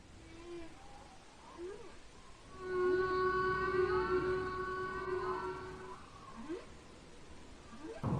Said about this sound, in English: Let's get closer to that pod of whales over there, and let's listen to their songs.